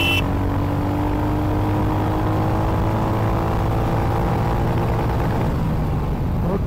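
Royal Enfield Hunter 350 motorcycle engine running steadily in second gear, a loud continuous drone with wind rush and a slowly rising engine tone while riding, no talk.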